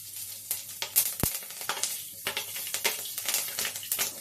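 Black cumin and green chilli dropped into hot oil in a pan for a fish curry, crackling and spitting in irregular sharp bursts over a soft sizzle, close and alone.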